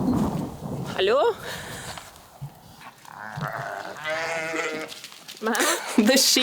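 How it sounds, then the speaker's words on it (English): Several sheep bleat close by, wavering calls rising and falling, one after another with short gaps between them. "The sheep wanted in on the fun too, and they made their way out of the barn."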